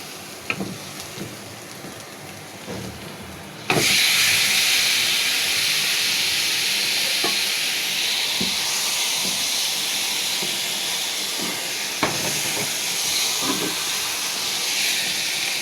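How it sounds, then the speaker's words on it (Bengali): Hilsa fish pieces drop into hot oil with fried coriander and cumin spice paste. After a few quiet clinks, a loud, sudden, steady sizzling hiss bursts out and fills the rest of the clip, broken by occasional utensil taps. "এখন আমি ইলিশ মাছটা ছেড়ে দিব"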